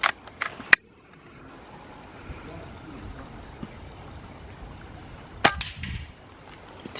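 Two sharp air rifle shots crack at an outdoor shooting meet on a Derbyshire estate, several seconds apart, over a low steady outdoor hiss.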